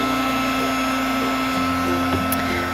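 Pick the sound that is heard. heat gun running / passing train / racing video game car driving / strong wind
heat gun running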